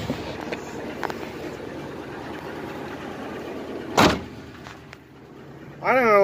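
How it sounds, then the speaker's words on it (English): A 2004 Ford E350 van idles steadily after startup, with a sharp knock near the middle and a wavering, rising whine from the power steering near the end. "Gotta love that power steering in a Ford."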